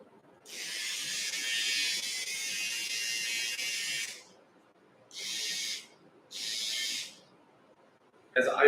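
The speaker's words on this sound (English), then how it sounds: "That's the nose trimmer, and we can change it to the eyebrow trimmer." Electric nose and eyebrow trimmer buzzing in bursts, a long steady whir followed by two shorter runs, close and fairly quiet with a brief click at the end.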